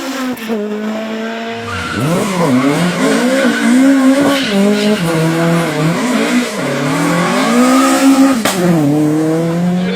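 An Escort rally car on a rally stage at the Jersey Rally 2015, engine loud and near, revving and dropping through gear changes with swooping pitch, continuous for the whole stretch and no talk.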